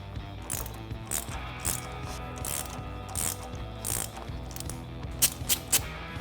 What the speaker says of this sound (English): Now we can use our 18mm socket to undo the middle of the bolt.